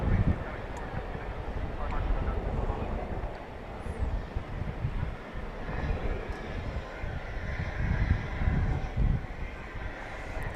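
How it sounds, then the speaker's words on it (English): Strong gusty wind roars across an open airfield at Dallas/Fort Worth International Airport, a steady low rumble of wind noise on the microphone with a Boeing 737-800 jet engine faintly blended in, loud and continuous throughout. "Have I mentioned it's windy today?"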